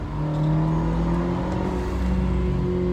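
Mercedes engine revving hard near 4,000 RPM under acceleration, a loud steady drone with rising harmonics filling the whole stretch, no talk over it.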